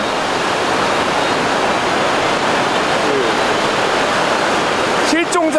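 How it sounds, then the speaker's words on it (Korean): Loud, steady roar of surf washing over a rocky shore at Jervis Bay, Australia, broadband and continuous, with a brief chirpy burst near the end. "보시다시피 파도가 뭐 이만큼 올라오니까"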